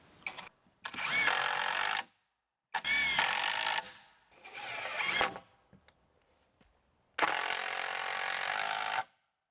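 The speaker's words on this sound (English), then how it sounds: "I'm going to use a combination of screws and then hammer in some nails for getting these studs onto the bottom plate here" Power driver sinking screws through wooden wall studs into a bottom plate while framing a shop wall, four separate whirring bursts of one to two seconds each, separated by short silences, close and fairly loud.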